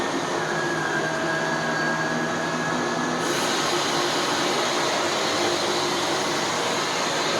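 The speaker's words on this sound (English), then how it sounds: "lot of suction to the carpet." A repaired Shark Powered Lift Away DLX upright vacuum cleaner runs steadily on carpet with a constant loud whooshing roar, its pitch shifting slightly partway through, and no talking.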